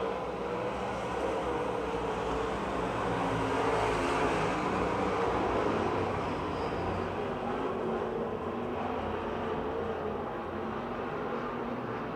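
Race cars roar around the oval at Pittsburgh's Pennsylvania Motor Speedway, a dense, steady engine wash from several cars blending into one continuous drone that holds at a constant level with no talk.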